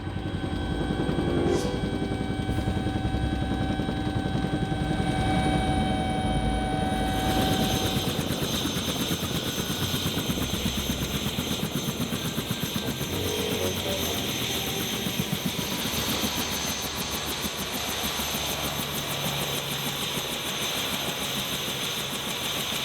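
A helicopter's rotor thumps steadily and loudly, the engine whine shifting as it settles and touches down at a helicopter gun range in Las Vegas, continuing close by throughout.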